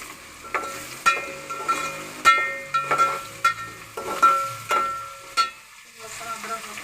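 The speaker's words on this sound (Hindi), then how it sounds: "और प्याज हमारी हो गई है, इसमें लहसुन अदरक ऐड करूँगी।" Onions sizzle steadily in a pan as garlic and ginger are added for a potato, pea and carrot curry, with a dozen sharp spoon scrapes and taps against the pan, close and unaccompanied by talk.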